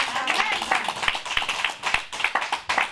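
Congregation clapping in acclaim of the Lord at a church gathering, a steady run of sharp handclaps with voices mixed in throughout.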